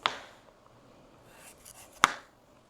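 A knife cuts bug-damaged bits off a home-grown sweet potato: two sharp, close chops, one at the start and another about two seconds later, with quiet scraping in between.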